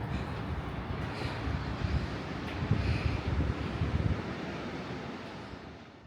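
Sea waves and coastal wind on the Iwaki coast in Fukushima: a low, steady roar of surf mixed with wind buffeting the microphone, swelling briefly midway and then fading slightly, with no voices.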